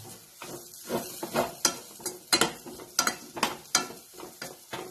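A spoon stirs sweet potato kheer in a pan over a medium gas flame, making irregular scraping taps and soft clinks against the metal with a faint sizzle beneath, alone and close.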